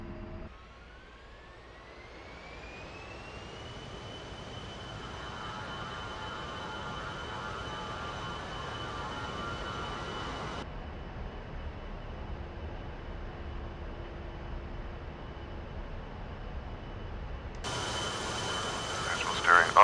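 Jet aircraft engine spooling up to full takeoff throttle in the flight game Iron Flag, a steady loud roar with a rising whine, holding constant and then swelling near the end.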